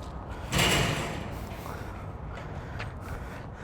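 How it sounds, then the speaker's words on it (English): The roll-up rear door of a 2017 Hino 155 box truck is pulled down, a sudden rattling rumble of metal slats that swells and fades, followed by quieter clatter and thuds. "a nice roll-up rear door you can pull down and lock to keep your equipment safe"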